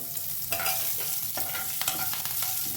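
Green chillies sizzle and crackle in hot oil while a spoon stirs and scrapes the pan in short strokes, close and continuous.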